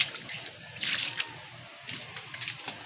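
Water poured from a container onto garden plants during watering, with a splashing gush near the start and softer intermittent splashes and trickles afterward, fairly close.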